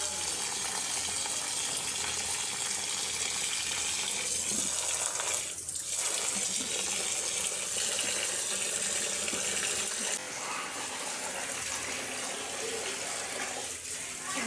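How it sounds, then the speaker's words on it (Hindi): Rice being washed by hand in water in a home kitchen, a steady splashing, running-water wash close by with a few louder swishes and stirs throughout, no talking. "चावलों को मैं धो लूँ अच्छी तरह से"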